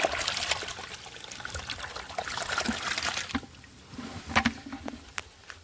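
Fish are released into a small pond, producing soft trickling and irregular splashes of water with scattered sharper splashes near the end, fairly quiet and close.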